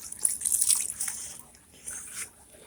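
Water poured onto potted plants and seedlings in well-draining soil, a soft trickling splash in two short bursts with a quiet pause between, close and faint.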